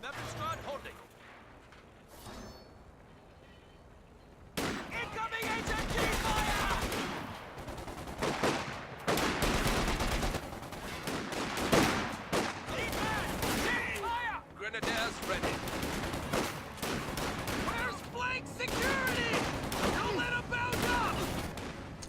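Video game battle with MG-34 machine gun fire and other gunfire, a quiet start giving way to dense, rapid bursts and booming shots that continue throughout, with a commentator talking over the combat.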